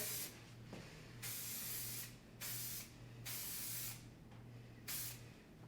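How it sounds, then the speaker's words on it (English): Several short bursts of Davines Texture Spray aerosol sprayed onto hair, close and crisp, each hiss lasting under a second with brief pauses between. "Going in with Davines Texture Spray."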